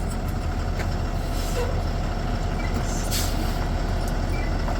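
A heavy truck on 22.5-inch tires idles and rumbles in a steady, dense, close low drone as it creeps forward over snow chains laid at its tire, with no distinct clanks standing out.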